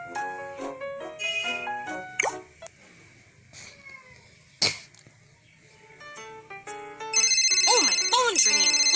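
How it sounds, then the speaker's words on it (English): A cartoonish phone ringtone in the kids' game Little Panda Policeman plays as a bright, chiming electronic melody of quick stepped notes, pausing briefly before resuming louder with a warbling pattern. "Oh, my phone's ringing."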